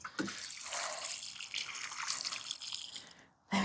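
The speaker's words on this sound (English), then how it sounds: "And a little water in." Water pours onto soil around a newly planted fruit tree on an allotment plot, a continuous close splashing hiss that ends with a short knock.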